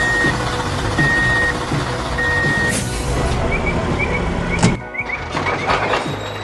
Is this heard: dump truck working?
yes